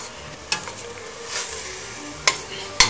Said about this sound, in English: And you just keep stirring it